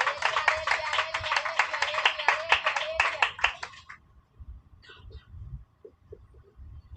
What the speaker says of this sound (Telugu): కొడదామా చప్పట్లు అందరం కూడా